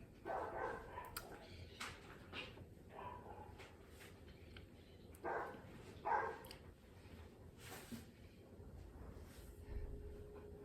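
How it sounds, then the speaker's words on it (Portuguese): Several dog barks in the distance, scattered irregularly across a quiet background with some wind rumble. "Desculpa o cachorro latindo"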